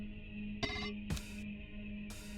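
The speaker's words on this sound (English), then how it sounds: "As you observe it, the phone in your office rings." An office telephone rings in the video game Titanium Court, a few short electronic trills of a ringtone at low volume over a faint steady background hum.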